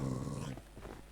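A wolf in the video game Minecraft growls with a low, rough rumble that fades into quieter breathy sounds, brief and close, with no talk.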